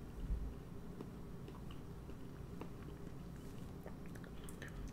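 Someone chews briefly frozen peaches, a steady soft wet munching and squishing close to the ear, continuous and alone without talk.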